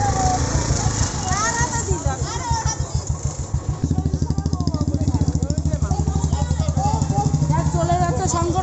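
A motorcycle engine idles with a fast, regular low putter that grows steadier and louder midway, while people talk over it nearby.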